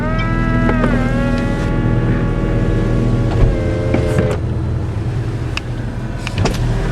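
A salvaged 2015 McLaren 650S Spyder's electric convertible roof whirs through its cycle over the loud, steady idle of the engine, with motor tones shifting and a few mechanical clunks as the top moves.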